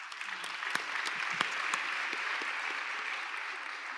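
Audience applause at a church-related panel event, steady broadband clapping with a few sharper individual claps standing out near the start, moderately loud and continuous throughout, with no speech on top.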